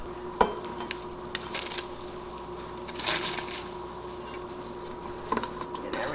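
Cooked meat chunks scraped from a bowl into a pot of bean soup: a few clinks of utensil against bowl and pot with soft scraping and wet plops, moderately close and fairly quiet.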